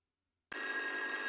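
An old-fashioned telephone bell in the retro video game Bibi Blocksberg starts ringing abruptly after a moment of silence, a loud, continuous metallic trill that keeps going to the end.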